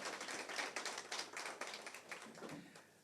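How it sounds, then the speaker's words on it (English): Audience applause at a CEOs' breakfast dialogue with Namibia's president. The clapping is quiet and somewhat distant, with many hands rattling in a brisk patter that thins out toward the end. "Another big round of applause, please."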